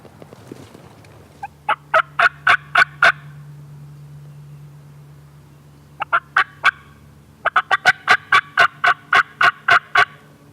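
A wild turkey gobbles in the open woods during a hunt, several rapid bursts of harsh rattling gobbles, distant but clear, in two bouts separated by a lull with a low steady hum.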